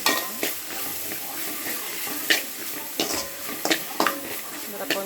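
A spoon stirs noodles with vegetables and salt in a pan: scraping and clinking against the metal over a soft sizzle, with several sharper knocks spaced irregularly, close and fairly loud.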